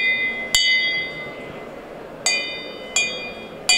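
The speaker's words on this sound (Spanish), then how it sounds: "Pero este cristal es el que suena así cuando se le da con la mano." Handmade Sèvres lead crystal with 30% lead, struck by hand, rings in four bright clear pings at uneven intervals, each with a shimmering high tone that decays over steady background room noise.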